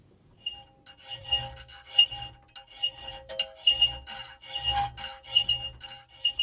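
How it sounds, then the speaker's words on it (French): Hand files rasp in short repeated strokes against the inside of a forged Viking war axe head held in a vise, each stroke a gritty metallic scrape with faint clinks between, close and fairly loud, with no talking. "Je vais la mettre dans l'étau, sortir mes limes et on va gratter tout l'intérieur."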